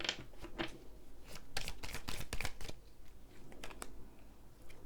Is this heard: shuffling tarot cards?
yes